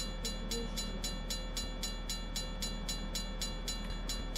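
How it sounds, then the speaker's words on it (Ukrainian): Locomotive rolling slowly toward a railway level crossing, a steady low rumble with a regular rhythmic clatter of wheels over rail joints, moderately near and continuous, with no talk. "Так, вже локомотив під'їжджає."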